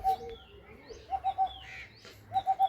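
Andhra pigeons in a loft give soft repeated coos, a few short bursts in a row, close and moderately loud, with faint chirps and light rustling between them.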